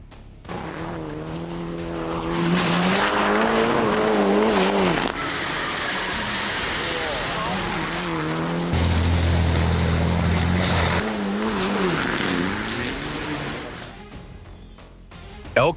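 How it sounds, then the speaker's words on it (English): A car on a black-ice road skids with loud, sustained tire squeal and engine roar, sliding out of control and slamming into a row of parked vehicles; sounds stay loud throughout, ending with a sharp impact burst. "Because of the slippery road, the car lost control and slammed into a row of parked vehicles."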